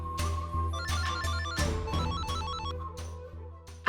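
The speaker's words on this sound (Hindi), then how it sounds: "माँ के फोन बा, उठावा।" A melodic phone ringtone for an incoming call plays loud and continuous, its repeating tune of bright tones carrying on with no speech over it.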